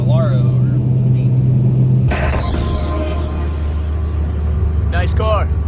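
A Ferrari sports car engine rumbles steadily, then surges into a loud, broadband revving burst at about two seconds that holds strong to the end, with brief voices talking over it.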